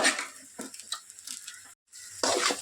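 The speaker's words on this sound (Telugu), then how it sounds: "అన్నం వేసేసుకున్న తర్వాత బాగా కలుపుకునేయాలి." Cooked rice stirred into fried eggs in a pan gives soft scraping and sizzling sounds in uneven bursts, with a brief quiet gap before the stirring resumes; no one speaks.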